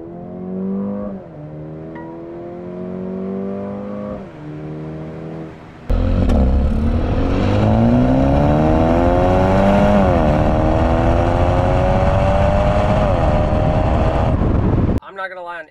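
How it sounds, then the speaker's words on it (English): A 2023 Mercedes CLA35 AMG exhaust drones while driving, shifting through gears in a rising and falling rhythm that grows much louder and rawer after about six seconds, then stops abruptly near the end. "the exhaust kind of sounded loud"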